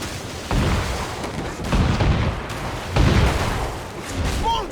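Small ship cannons fire during a naval battle in Assassin's Creed 4: Black Flag. Several heavy booms land about a second apart, each with a rumbling tail. Shouting crew voices run over the barrage.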